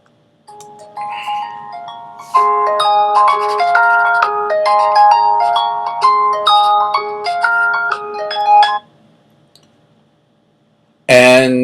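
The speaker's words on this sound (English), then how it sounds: "sorry about that, was my phone" A mobile phone rings with a bright, stepped melodic ringtone that plays loudly for several seconds before cutting off, heard close and alone, followed by a short burst of talk.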